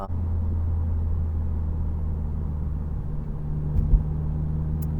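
From inside an 11th-generation Honda Civic Si fitted with a PRL rear motor mount, city driving comes through as a steady low engine hum and road rumble, with a faint bump near the end and no talking.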